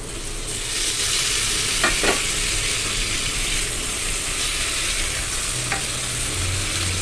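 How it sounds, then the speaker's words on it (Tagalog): Pork frying with garlic and onion for adobo with pineapple, a loud dense hissing sizzle held close throughout, broken by a few quick spoon scrapes and knocks as it is stirred, no voices. "Ngayon guys, ilipat ko na dito yung ating pork."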